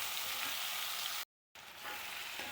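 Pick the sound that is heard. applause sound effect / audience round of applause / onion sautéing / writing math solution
onion sautéing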